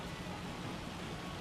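Steady, dense hiss of rain falling in the Farming Simulator 25 farming game, continuous and even throughout with no voices.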